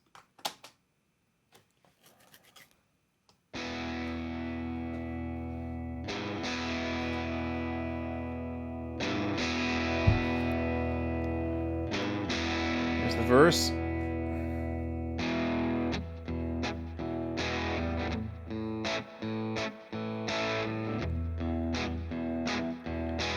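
Distorted electric guitar played through an AC-15 amp and recorded with a condenser mic: sustained chords with rhythmic picking and a few sharp accents; a voice speaks briefly at the start.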